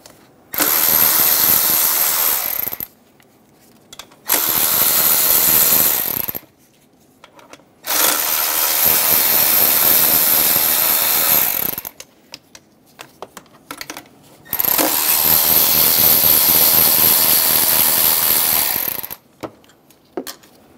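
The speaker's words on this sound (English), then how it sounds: "Using a 12mm socket, remove the two bolts and two nuts for the throttle body." A 12mm socket on a ratchet loosens the throttle body bolts and nuts of a 2003-2007 Honda Accord, heard as long bursts of rapid, loud close-up ratcheting clicks separated by short pauses, with no talking.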